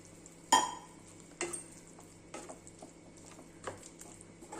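A spoon stirs a kachori spice mixture with water in a pan. It makes a few sharp metallic clinks and knocks against the pan, spaced about a second apart, over a quiet background.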